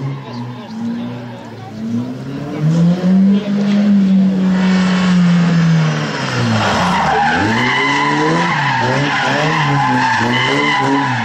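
A front-engined, rear-wheel-drive rally car skids and slides through a motorsport trial at Vila Nova da Barquinha, its engine note swelling and bending loudly up close as tyres scrub across the surface, with a voice talking over it.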